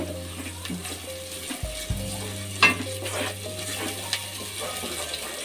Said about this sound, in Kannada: ಈಗ ನಾವು ರುಬ್ಬಿಟ್ಕೊಂಡಿರೋಂಥ ಮಸಾಲೆನ ಹಾಕ್ಕೊಳ್ಳೋಣ ಇದರಲ್ಲೂ ಕೂಡ ಹಸಿ ವಾಸನೆ ಇರುತ್ತಲ್ಲ ಅದು ಹೋಗಬೇಕು ಇದೊಂದೆರಡು ನಿಮಿಷ ಫ್ರೈ ಮಾಡ್ಕೋಬೇಕು